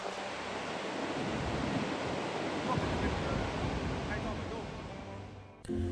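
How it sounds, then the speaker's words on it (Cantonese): Gullfoss waterfall in Iceland, a two-tier fall dropping 32 metres into a canyon, roars as a dense, steady wash of water. Wind buffets the microphone, and the sound runs unbroken until a brief dip at the end. "而家咧就嚟到嘅黃金瀑布啦"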